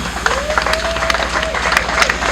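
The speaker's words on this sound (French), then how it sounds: "Si nous pouvons l'encourager avec nos acclamations." Audience applause and cheering at a Christian music studio event, dense clapping and crowd noise throughout with a voice heard over it.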